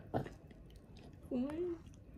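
A baby chews meat sauce pasta with soft, wet mouth sounds up close, and a short vocal sound is heard partway through.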